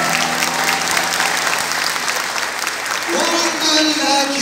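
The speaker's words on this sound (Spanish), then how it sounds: "sus aplausos" An audience at a live folk concert bursts into sustained, dense applause, which thins toward the end as a voice begins speaking over the fading claps.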